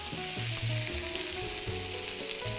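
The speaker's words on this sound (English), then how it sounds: "So what I'm sauteing is very quickly." Sugar snap peas, snow peas and thin green beans sauté in a hot pan, giving a steady close sizzle with brief stirring clatter, no voices.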